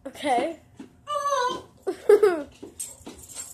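A dog whimpers and whines in several high, wavering bursts, close and fairly loud, with a person briefly speaking between them.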